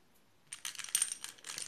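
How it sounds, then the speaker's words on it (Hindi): Metal coins set down one after another onto two playing cards held up during a balancing game, giving a quick series of close, light clinking taps after a short silence. "तो मैंने टू कार्ड्स को होल्ड कर लिया है और उसके ऊपर मैंने कॉइन्स भी रख दिए हैं।"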